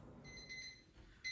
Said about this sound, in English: The alarm has gone off, so they should be done.